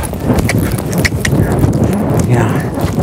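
A green-broke four-year-old mare cantering, her hoofbeats a steady muffled rhythm on soft footing, close by and heard under continuous talking, with a low outdoor rumble behind.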